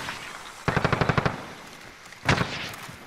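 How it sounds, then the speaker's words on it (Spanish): Video game gunfire: a rapid automatic burst of about eight shots, then a shorter second burst after a pause, loud and close with no talk over it. "Otro me está disparando."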